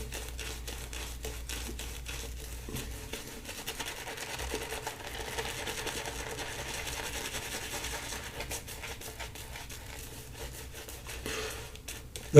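A shaving brush works a 100% vegetal shave soap into a still-dry lather, making a soft, continuous scrubbing and squishing rub, close and quiet, with faint crackles and a brief knock at the very end.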